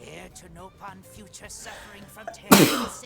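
A Nopon character in Xenoblade X lets out a single loud, sharp sneeze right after speaking in a squeaky voice.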